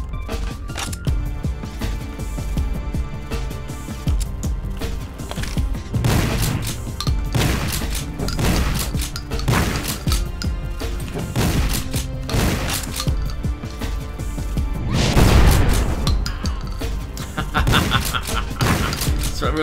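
Repeated crossbow-like bolt shots fired at enemies in the retro shooter Project Warlock, sharp impacts in a rapid irregular series over a dense, loud game soundtrack with occasional heavier blasts.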